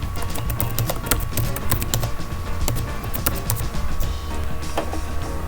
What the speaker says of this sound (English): you have to type the name of your domain